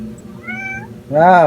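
A house cat lets out a loud, close meow at the end, after a short stretch of quieter background sound.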